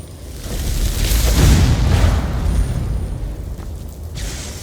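A loud, rumbling explosion in Skyrim swells into a sustained low roar with a crackling burst near the start, filling the whole stretch without speech.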